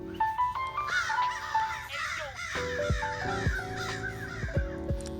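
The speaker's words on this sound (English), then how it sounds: "excuse the birds" Crows caw repeatedly and loudly, several harsh calls overlapping in quick bursts close by.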